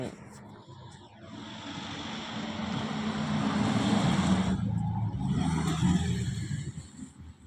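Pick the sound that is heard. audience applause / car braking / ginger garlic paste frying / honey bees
car braking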